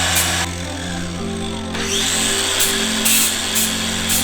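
Power tool grinding and cutting through steel studs at a boatyard, a loud steady whine with a droning hum throughout, continuous and close, with a few brief scraping surges.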